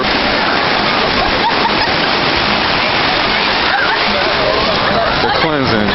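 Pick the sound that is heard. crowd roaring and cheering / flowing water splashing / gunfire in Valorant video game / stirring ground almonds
flowing water splashing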